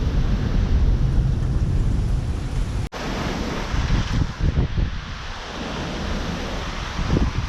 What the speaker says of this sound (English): That might have been 90 mile per hour wind right there